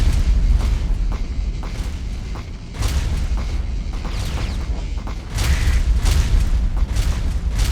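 Missiles firing and explosions in the space combat game Starsector, a dense rumble of booms and bursts with sharper blasts at intervals, loud and continuous.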